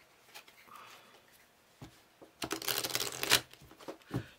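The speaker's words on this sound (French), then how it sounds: "je vais tirer une carte de là-dedans" A tarot or oracle card is drawn from a deck during a sentimental card reading, heard as soft papery shuffling and sliding with a louder rustling burst near the end, close and alone.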